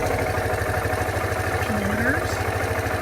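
A Suzuki Van Van motorcycle with 12,300 km on it idles steadily, its low, even engine pulse running unbroken and close by throughout.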